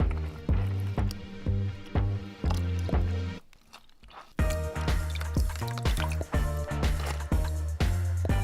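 Water poured out of a glass onto a sponge drips and squishes in a steady, rhythmic run of wet splats, briefly pausing before resuming, close and fairly loud.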